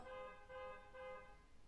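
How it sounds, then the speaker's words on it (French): A car horn sounds outside in a few faint, muffled honks, one after another, heard from a distance through a room. "Vous voyez, ça klaxonne dehors."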